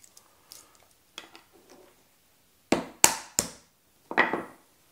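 A crayfish claw shell being cracked apart by hand without a knife: faint small clicks and creaks at first, then four sharp, close cracking snaps.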